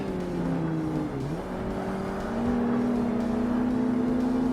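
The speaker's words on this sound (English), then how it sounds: "The car definitely kind of sounds like a 2ZZ" A race car engine in the video game Forza Motorsport (Xbox, 2005), sounding like a Toyota 2ZZ engine, hums steadily, then climbs in pitch as it revs higher, a continuous droning tone with no talking.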